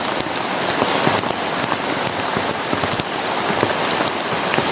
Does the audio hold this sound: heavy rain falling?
yes